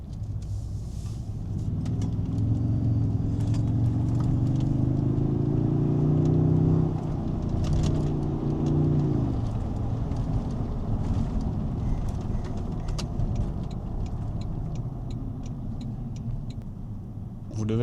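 Interior ride in a Toyota Tundra pickup truck, with the engine droning and rising in pitch as it accelerates, then easing off into steady road and tyre rumble; a few brief knocks and clicks from the cabin.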